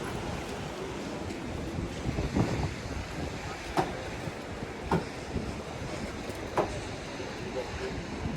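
High sea waves roll in at the Dwarka seashore: a continuous broad wash of surf and wind with a few soft surges breaking through, heard from a short distance.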